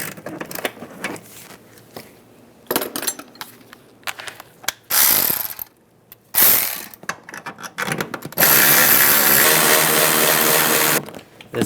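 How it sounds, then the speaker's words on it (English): A ratchet with a 15mm socket removes nuts on a 2007-2013 Chevrolet Silverado 1500 during stub shaft replacement, giving loud, close bursts of rapid clicking broken by short pauses, then one long sustained run of ratcheting. "15mm socket. Take these nuts off."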